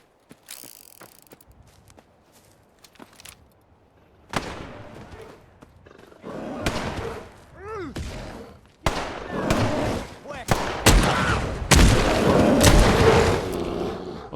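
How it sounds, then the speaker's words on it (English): A chain of explosions in the Fallout video game as one blast sets off others, heavy booms and rumbling bursts that build in loudness and density over several seconds, mixed with mechanical clatter and a creature's roar. "I blew up one of them and they all exploded"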